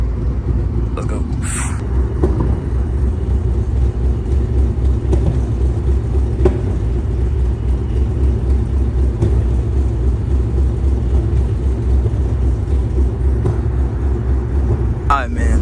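A cammed Mustang rumbles at a late-night car meet, a deep continuous idle filling the whole stretch, close and loud, with a couple of brief sharper noises on top.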